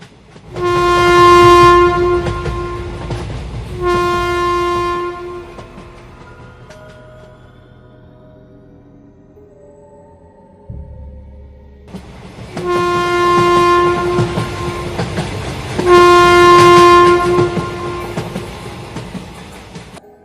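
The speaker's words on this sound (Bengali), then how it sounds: "তাই আজ বিকেলে ট্রেনে করে বেরিয়ে পড়লাম" A running train sounds its loud, tonal horn in two long double blasts. Between them the steady rumble of the wheels on the rails carries on, and no one speaks.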